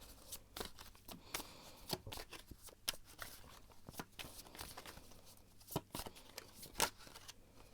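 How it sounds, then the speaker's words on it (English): Tarot cards are shuffled by hand in repeated quick riffles and flicks, close and crisp, with soft rustling between bursts and no talking. "I'm going to shuffle and see what the cards have to say"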